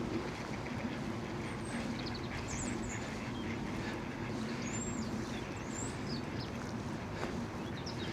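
Ducks quack in short bursts over a steady, noisy outdoor background rumble, with no voices present.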